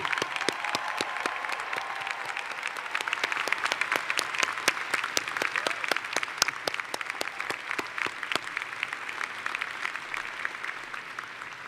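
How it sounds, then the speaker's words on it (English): A college commencement audience at Skidmore College applauds graduates' loved ones, with crisp individual claps at first that build into steady applause and then thin out toward the end. "Please join me in applause for all your loved ones who helped you get here today"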